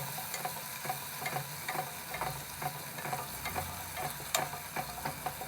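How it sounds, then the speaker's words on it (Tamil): Onion and green chili sautéing in a pan for sambar rice, a soft steady sizzle with rhythmic clicks of stirring at a moderate distance and no talking. "வெங்காயம் ரொம்ப வதங்கணும்னு இல்லை,"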